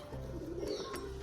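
Caged pigeons, including nesting pairs, coo in soft, low, rolling calls that run steadily throughout at close range, with no talking.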